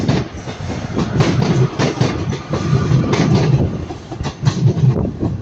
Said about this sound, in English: We've got Northern Class 156 also coming in this way